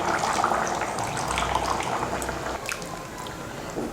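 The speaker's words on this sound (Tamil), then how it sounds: "இப்போது இதில் புளி சேர்த்துக்கலாம்." Tamarind water poured into a simmering brinjal and bean curry, a steady liquid splash and bubbling sizzle running throughout, close and moderately loud, with no talking.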